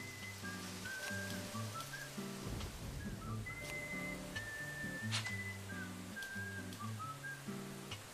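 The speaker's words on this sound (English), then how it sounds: "I think this is supposed to be while it's raining" Steady rain patters softly across the scene during a fishing sequence in the video game Deadly Premonition, with light whistling tones and game music over it throughout, quiet and continuous.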